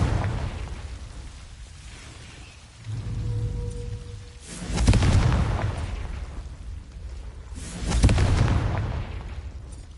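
A Confringo blasting spell in Hogwarts Legacy goes off as two loud, booming bursts a few seconds apart, each with a crackling tail, over a steady rain-like background hiss.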